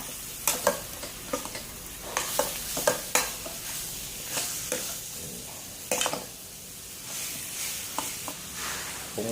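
Pre-boiled jackfruit is stir-fried in a pan, with steady sizzling and repeated scraping and clanking strokes of a spatula coming up close and loud, with no talking.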